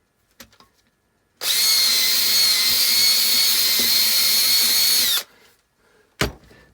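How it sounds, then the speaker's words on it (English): A power drill with a bit whines at steady high speed for about four seconds while widening a hole, then spins down, followed by a sharp knock; nearby and loud, with no voices. "I'll go with this drill bit and make it a little bit bigger."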